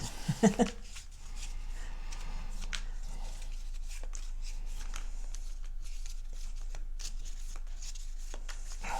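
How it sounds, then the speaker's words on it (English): A deck of cards from a Star Wars The Clone Wars board game is shuffled by hand at a table, giving a steady soft riffling and scratching texture that runs for several seconds after a brief knock at the start. "Then shuffle the invasion discard pile and place it face down on top of the invasion deck."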